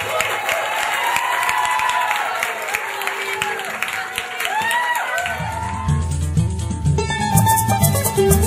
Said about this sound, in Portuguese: Uma salva de palmas para o Franzoni.